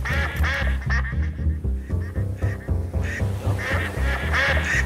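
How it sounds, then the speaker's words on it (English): Quacking ducks in a duck-shooting game built in Dreams, styled after Duck Hunt, with repeated loud honking quacks in an uneven rhythm over a steady backing tune throughout. "There's a duck!"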